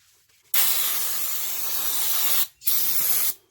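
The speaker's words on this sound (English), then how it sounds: "Brake clean on this one as well. Clean it all up. Get rid of that rust inhibitor coating." Brake cleaner sprayed onto a rear brake drum of a 2012 Cadillac SRX to strip rust inhibitor coating: two loud, close, steady hissing bursts, a long one of about two seconds, a brief pause, then a shorter one.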